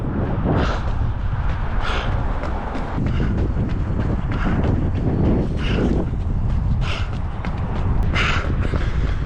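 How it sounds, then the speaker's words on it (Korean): A strong headwind blows along a river, buffeting the microphone with a steady, loud rushing roar that surges slightly throughout, with no other sounds standing out. "강바람 정면바람이 불고 있습니다"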